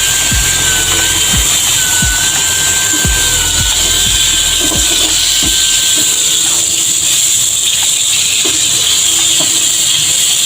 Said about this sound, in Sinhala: දැන් මේ පේනවා මේ මාළු ටික දැන් හොඳට බැදෙනවා.